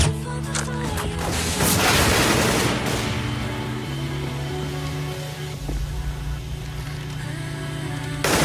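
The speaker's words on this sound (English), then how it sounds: "Deploying flashbang." Explosions and gunfire crash through a Counter-Strike: Global Offensive match as a flashbang grenade goes off, a loud, dense burst of booms and rapid shots layered over a steady musical backdrop.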